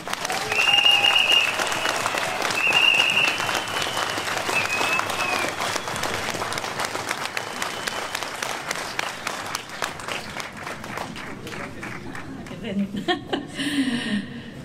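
Crowd applause at an outdoor rally in Stralsund, Germany, loud and sustained from the start, then thinning into scattered claps and a few chuckles toward the end.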